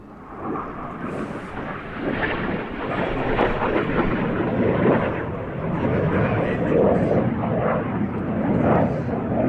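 A North American F-86 Sabre jet roars by overhead at an air show, with a broad, rushing engine noise that swells and stays loud, with some speech faintly mixed in.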